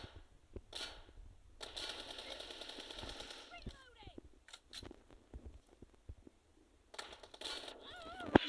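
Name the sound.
gunfire in a video game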